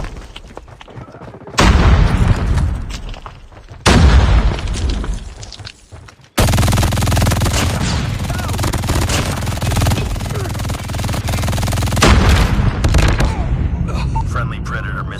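Bursts of MG42 machine gun fire in Call of Duty Mobile, loud and close, come in two short volleys and then a long sustained stream, with game sound effects and voice callouts layered over it.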